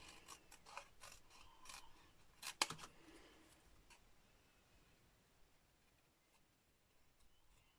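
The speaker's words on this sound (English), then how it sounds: "if you pop it in and move the paper into the scissor, I find you get a much nicer snip" Scissors snip paper for handmade card making, a quick cluster of crisp close cuts followed by one sharper snip, then faint rustling of paper being moved in a quiet room.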